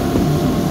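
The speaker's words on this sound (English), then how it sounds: "Fan motor, exhaust fan motor has kicked on." Exhaust fan motor of a Rheem boiler in an off-grid home running as the burner fires, a loud, close, steady low hum and rumble with no pauses.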